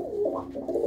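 Pigeon in a Ludhiana loft, giving one brief, soft, throaty coo close by, rolling and wavering in pitch with no talking.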